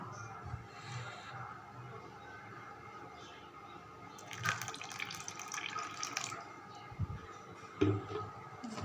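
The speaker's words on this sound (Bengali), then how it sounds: "আর এর মধ্যে আমি আর একটু সামান্য জল দেব" A little water poured into rice flour batter in a home kitchen for pumpkin-leaf fritters: a faint, quiet trickle with small clinks and splashes toward the end.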